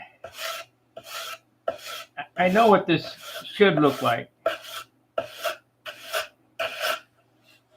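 Hand sanding of wood on a model airplane part being tapered at the front: rhythmic, close rasping strokes in a steady series, with a brief stretch of talking in the middle.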